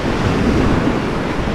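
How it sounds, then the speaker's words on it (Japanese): Ocean waves surging and washing in continuously at night, a loud, steady broadband roar with some wind buffeting the microphone, no voices. "やっぱりこの波の音っていうのが"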